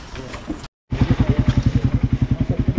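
A motorcycle engine idles close by with a loud, regular pulsing thump after a brief cut, preceded by a moment of talking and ambient noise by a river.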